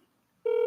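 Brief telephone dialing tone starts abruptly after near silence, a single steady electronic beep with a short overlapping second tone at the end, clear and close with no voices.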